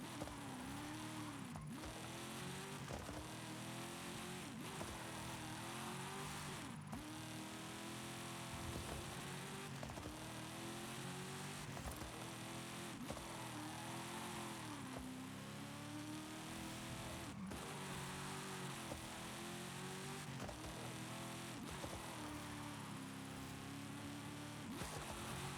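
A 1988 Mitsubishi Starion's engine growls loudly and continuously, revving up and down in repeated surges with no talking over it.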